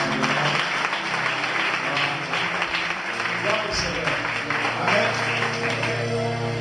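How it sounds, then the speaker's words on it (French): Congregation in a church service applauding the Lord: steady, dense clapping that lasts throughout, mixed with music and voices. "On peut acclamer le Seigneur pour le Seigneur."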